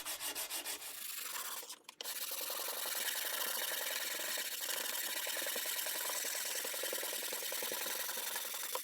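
Steady, close rubbing as 150 grit sandpaper on a block works along a wooden military rifle stock, continuous after a brief handling bump near the start.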